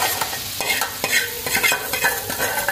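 Spiced tempering poured over cooked dal on a village stove crackles and sizzles loudly and continuously, with sharp bursts of spattering oil and stirring, and no voices.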